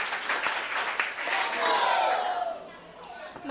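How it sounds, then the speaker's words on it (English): Students clapping and cheering at an upper-primary school maths quiz, a steady burst of applause from a nearby crowd with voices mixed in, fading slightly toward the end. "Let's clap for her."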